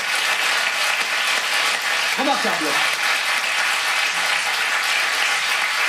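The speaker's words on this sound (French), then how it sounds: "Ça s'applaudit" Broadcast applause after a charity fundraising announcement: steady, dense clapping fills the whole stretch at even loudness, with a brief spoken word cutting through partway.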